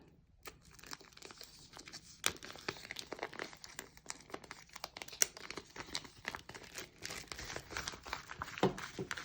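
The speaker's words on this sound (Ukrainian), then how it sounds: "Спочатку розмотую рулон." Close, continuous crinkling and crackling of a roll of plastic book cover film being unrolled, with sharp rustles and small pops throughout and no talking.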